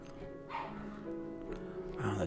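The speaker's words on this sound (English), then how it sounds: "Oh, the dogs, man." Dogs barking and yipping nearby in short bursts, with a steady background hum underneath.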